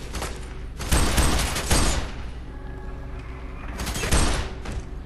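Bursts of gunfire from the shooter game FEAR 3 crackle in two loud clusters separated by a quieter stretch, sounding close with rattling rapid shots.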